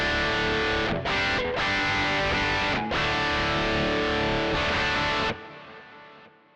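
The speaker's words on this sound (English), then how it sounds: "This is what it sounds like just on its own, straight into Pro Tools," An electric guitar runs through a Neural amp plugin straight into Pro Tools with a bit of delay and reverb. Distorted chords ring out with brief gaps, then the tail decays away at the end.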